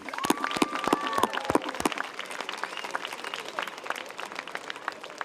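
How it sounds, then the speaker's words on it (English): An audience applauds the graduating class at a 2010 Ottawa Hills high school graduation ceremony. Strong claps open, then a steady wash of crowd clapping continues and slowly thins. "Please give them a clap"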